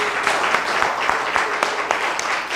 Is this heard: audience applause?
yes